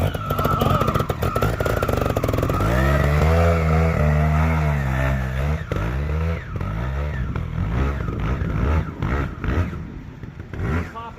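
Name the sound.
trials motorcycle riding in fourth gear, rear tire popping dirt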